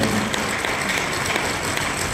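Audience applause at an awards event for a monthly short film festival, a dense wash of many hands clapping, steady and fairly distant, with no talk over it.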